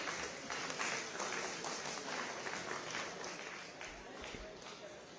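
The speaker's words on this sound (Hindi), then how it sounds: "तालियां बजती रहनी चाहिए" Audience applause rings through an auditorium at a government appointment-letter ceremony in Dehradun, a steady patter of many hands clapping, fairly distant and moderate, with a few louder thumps near the end.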